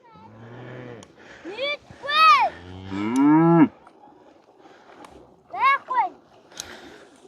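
Cows low several times during hand milking of a cow, loud drawn-out moos near the listener, with quieter gaps between calls and a final pair of shorter moos.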